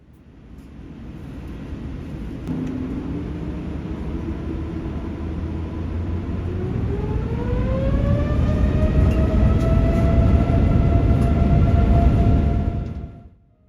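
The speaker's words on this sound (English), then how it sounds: "soon we are on the runway, hurtling our way towards Vietnam's largest city" An airliner accelerates down the runway for takeoff on a flight to Vietnam's largest city, heard from the cabin as a deep roar with engine tones rising steadily in pitch, loud and continuous before dropping away at the end.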